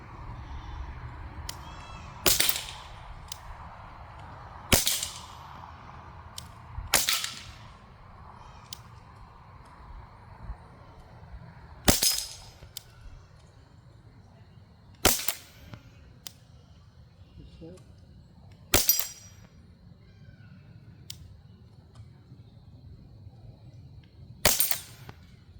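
Crosman 1077 PCP air rifle firing a string of shots at cans, eight sharp cracks spaced a few seconds apart, each with a quick ring-off, over faint outdoor background.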